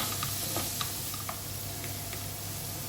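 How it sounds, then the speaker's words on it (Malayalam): Pork vindaloo, Kerala style, sizzling steadily in a pan while it is stirred, with a few soft scraping clicks over a constant frying hiss, close and moderately quiet, no voices. "നമുക്ക് നന്നായി ഇളക്കി യോജിപ്പിക്കാം."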